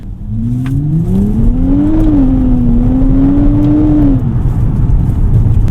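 2024 Nissan Z engine accelerating from inside the cabin, a loud rising drone that climbs, levels briefly, then eases off over steady road noise.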